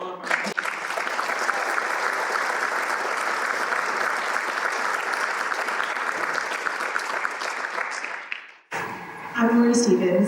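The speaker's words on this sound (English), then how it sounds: "Let's give a big round of applause to all of our" A university event audience breaks into steady, full applause that continues evenly for several seconds, then fades and stops as a speaker begins talking.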